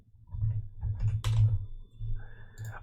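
Quick bursts of computer keyboard typing, soft clicks in uneven clusters close by, with a brief sharper clack in the middle, while playing Dota Underlords.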